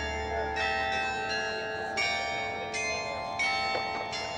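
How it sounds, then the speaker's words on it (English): Rathaus Glockenspiel bells ringing out in a sequence of bright, resonant strikes that overlap and ring on, heard alone from a moderate distance. "that is the prettiest chime I ever did hear"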